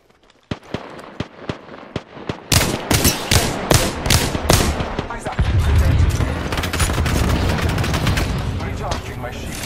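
Gunfire in the Apex Legends game, a run of sharp single shots that grows into dense rapid bursts, loud and close, with more fire rolling on behind.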